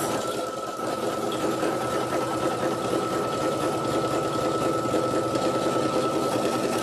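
An in-the-hoop embroidery machine stitches vacation ears in silver thread, giving a steady, loud, continuous mechanical whir and rapid needle chatter that runs unbroken throughout with no talking.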